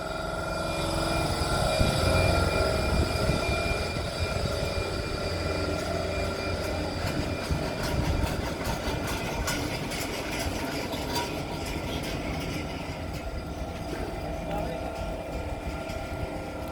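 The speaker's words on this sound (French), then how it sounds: "Ça y est, le TGV a lancé le moteur, c'est bien." TGV inOui high-speed train at Dax station starting its engine and moving off, a broad, steady rumbling hum that swells early and then holds, heard close, with a voice talking over it.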